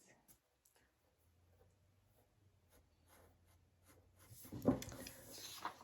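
A pencil draws small strokes on paper around the pupil of a sketched eye, producing faint, intermittent scratchy marks, with a brief louder rub near the end.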